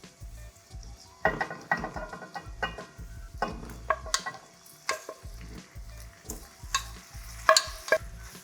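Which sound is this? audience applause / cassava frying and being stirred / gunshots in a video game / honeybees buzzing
cassava frying and being stirred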